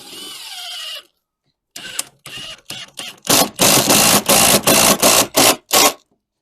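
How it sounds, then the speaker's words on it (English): A power driver sinks Fence Easy panel fitting screws straight through a fence panel without pilot holes, heard as several short whirring bursts that climb into longer, louder grinding runs near the end, each stopping abruptly. "So we're going to take our Fence Easy panel fitting screws, and they simply screw straight through."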